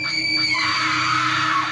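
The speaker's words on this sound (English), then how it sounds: "But then the scream came again." A sustained, piercing scream used as a sound effect in a creepy forest story, one continuous high wavering cry held loud and alone for nearly two seconds.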